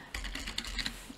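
Quick light keystrokes on a computer keyboard, a brief patter of clicks close by and fairly soft over a faint room hum, with no voices.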